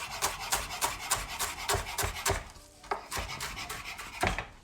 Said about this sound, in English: All right, rough chop on the herbs.